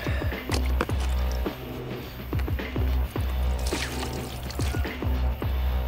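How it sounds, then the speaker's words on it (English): A foam air filter from a Suzuki Lets UZ50 scooter is squeezed by hand, giving repeated wet squishes and liquid dripping and splashing in a close, steady rhythm. "You're not supposed to wring them out. And you're supposed to squeeze them."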